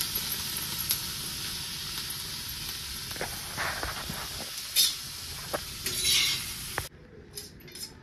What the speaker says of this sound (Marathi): त्या तव्यामध्ये थोडीशी डाळ भाजून घेणार आहे